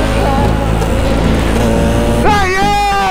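A motorcycle engine at a Christmas motorcycle rally drones loudly and steadily, then revs up sharply near the end with rising pitch, close by.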